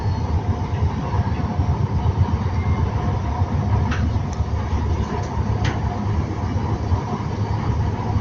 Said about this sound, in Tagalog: LRT train.